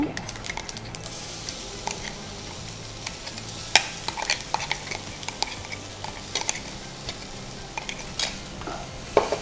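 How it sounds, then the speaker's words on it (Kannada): Ground masala is added to a pan and stirred with banana stem for sukka. Spoon scrapes and frying sizzle come in irregular bursts at close range. "ಇನ್ನು ಆಗ ಕಡ್ದಿಟ್ಟ ಮಸಾಲೆಯನ್ನು ಹಾಕ್ತೇನೆ."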